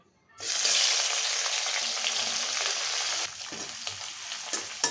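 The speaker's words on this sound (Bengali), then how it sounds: "আমি শুটকিগুলো তেলে দিয়ে দিব।" Dried puti fish dropped into hot oil bursts into a loud, steady sizzle that fills the clip, easing slightly near the end with faint stirring clatter, no talk.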